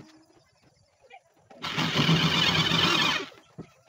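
An angle grinder converted into a sander switches on with a loud, steady high whir that runs for about a second and a half, then cuts off and fades.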